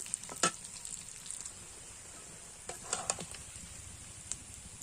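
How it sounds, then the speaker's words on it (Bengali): Mutton and potato fry with spices in a pan, giving a faint, steady sizzle with a few sharp stirring clicks and scrapes. The sound is close and quiet, with no talking. "এবার মশলার সাথে মাটন আর আলুটা ভালো করে কষিয়ে নেব"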